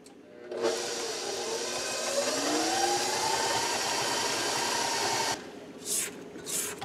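An electric mixer beating egg yolks and vanilla into cheesecake batter, a steady loud whirring hum with a shifting pitch that stops abruptly, followed by a few brief scraping sounds.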